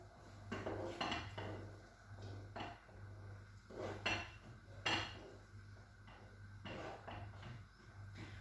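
A spoon stirs food in a cooking pot with soft scraping and irregular clinks of metal against the pot, faint and close over a low steady hum from the stove.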